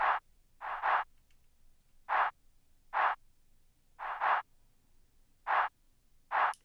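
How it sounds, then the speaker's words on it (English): Pluggnb chant drum pattern: short, bright vocal-like chant hits land in an uneven bouncing rhythm, some in quick pairs and others alone, loud and dry over a faint low hum with no talking. "And then we have the chant pattern, which adds the most bounce out of all of the perks."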